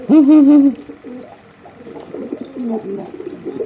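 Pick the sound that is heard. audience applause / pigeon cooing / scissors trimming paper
pigeon cooing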